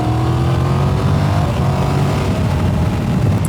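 A Triumph Tiger Rally Pro motorcycle engine revs up loud and close, holding a steady, throaty roar with rising harmonics throughout.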